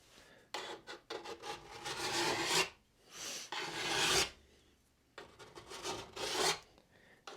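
A snowboard's steel edges are detuned with a rasping tool while the board is clamped down, heard as loud, rough scraping strokes in three long bursts separated by short pauses, with no voices.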